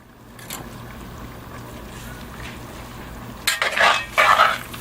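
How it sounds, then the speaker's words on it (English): Meat being stirred in a cooking pot, with a low steady background that gives way to two loud scraping, sloshing strokes near the end, close and without talk. "I'm going to stir that up."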